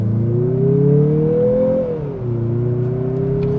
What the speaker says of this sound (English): We can try one out in sport mode on the gas.